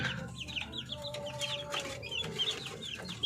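One-month-old darag chicks feeding on a farm give repeated high, quick peeps and soft clucks, close and moderately loud over light background noise.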